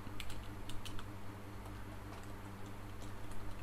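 Someone types on a computer keyboard, the light, scattered keystrokes faint against a steady low hum.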